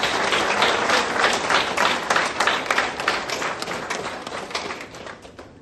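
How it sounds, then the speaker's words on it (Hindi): Enthusiastic audience applause at an office gathering, close dense clapping from a crowd that starts loud and slowly thins toward the end. "एक बार सागर जोशी सर के लिए जोरदार तालियां।"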